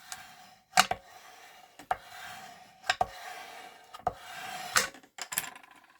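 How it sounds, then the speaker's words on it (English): Rubbing glue off the back of a folded paper easel card: soft, close rubbing strokes with several sharp taps and knocks at irregular intervals, fairly quiet and with no talking. "I'm going to turn it over right now and just rub that glue out"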